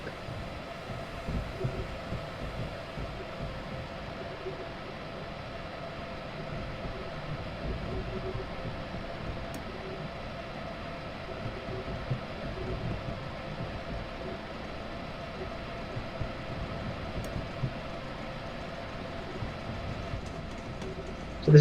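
BR189 electric locomotive running in Train Simulator 2015 on the Hamburg–Hanover line, a steady low rumble and hum of the moving train with a faint rhythmic wheel beat throughout, quiet and continuous.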